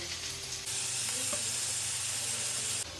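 Onions and green chillies fry in about five tablespoons of oil, a loud, close, continuous sizzle that swells after a moment and stays steady.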